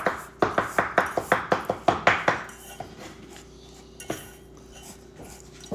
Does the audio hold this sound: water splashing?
no